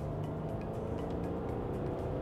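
A Mercedes W211 saloon accelerating hard at full throttle from 60 to 90 km/h, a steady, loud engine roar with road and wind noise, heard continuously without speech.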